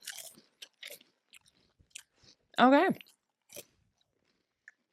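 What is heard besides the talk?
people crunching on beaver nugget snacks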